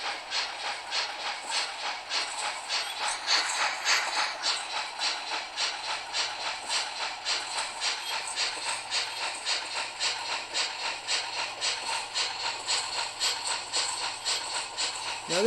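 The Flying Scotsman steam locomotive in Train and Railyard Simulator chuffs in a rapid, regular exhaust beat under a constant hiss of steam, with a low rumble running beneath.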